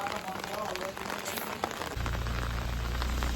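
Steady rain falls on a hillside home in the mountains during monsoon, a dense continuous hiss with scattered drop patters, growing heavier and fuller partway through, with no talk over it.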